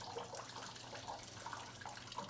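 Water in a basement sump pit, heard as a steady broadband wash with faint bubbling and sloshing, continuous and fairly quiet throughout, no voices.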